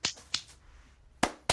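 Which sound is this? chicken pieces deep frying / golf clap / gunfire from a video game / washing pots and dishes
golf clap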